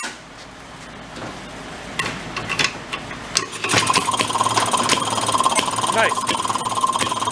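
A Maytag 92 hit-and-miss engine runs with rapid mechanical clatter and rhythmic popping that grows louder and steadier partway through, with a person speaking briefly over it.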